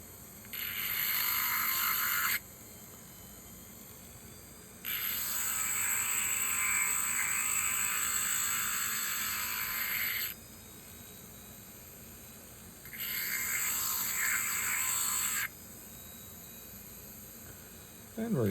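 A rotary carving tool cuts a flower petal into a Lake Superior agate, giving three bursts of high, hissy grinding several seconds long, separated by quieter gaps with a constant motor whine underneath.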